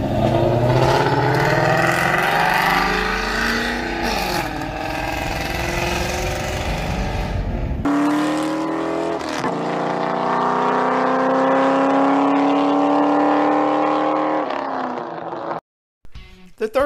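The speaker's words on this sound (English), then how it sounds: "Let's take a listen to two different Mustangs" Two Ford Mustang V8 engines, one a 7.3 Godzilla and one a Coyote, idle and rumble loudly one after the other, the first rough and lopey, the second smoother, each with throaty low burble throughout.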